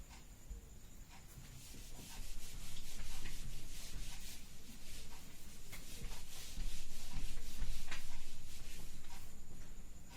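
Rubbing on a classroom board during a class-10 maths lesson, steady scraping strokes that swell and fade in repeated passes, close and alone without speech.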